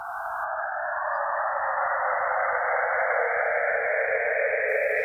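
Sonified data from Saturn's rings, heard as a steady, loud broadband hiss like radio static that sweeps slowly and smoothly in pitch, continuous throughout with no voices.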